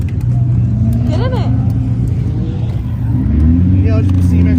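Cars roar around the Utah Motorsports Campus track during a drifting event, a steady engine drone with a rising rev passing close, while people talk over it.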